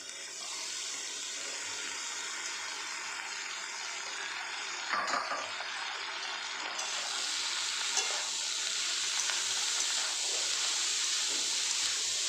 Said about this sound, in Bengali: সমস্ত উপকরণ ভালোভাবে মিক্স করে নিচ্ছি।